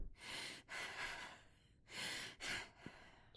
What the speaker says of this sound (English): She has gasping breath.